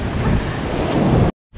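Ocean surf rolls in at Balagbag Beach in Real, Quezon, a loud broadband wash with wind buffeting the microphone, cutting out briefly near the end before resuming.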